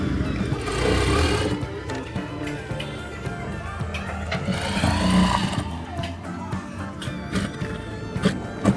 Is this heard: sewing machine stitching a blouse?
yes